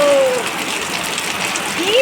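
Heavy rain hisses steadily, with a brief faint whistling tone at the start and at the end.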